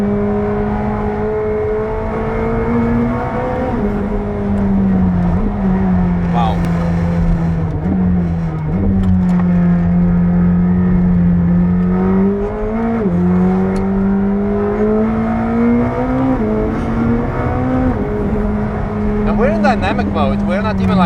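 A McLaren 765LT's engine pulls hard at speed around the Nürburgring, its loud, steady drone rising and falling through gear changes and throttle shifts, with cabin chatter running beneath it.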